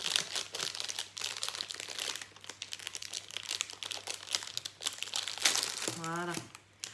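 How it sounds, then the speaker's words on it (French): A plastic bag crinkles and rustles close up as soft polymer clay is worked out of it, irregular crackling bursts throughout with a brief tonal voice near the end. "faut-il arriver à le sortir du sachet sans éclater le sachet? Ça va être plus compliqué. Voilà, c'est tout collé."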